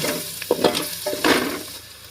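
Fish masala and chili powder are stirred and fried in a pan for a fish curry, with a few scraping strokes of the spoon over a steady close sizzle and no talking.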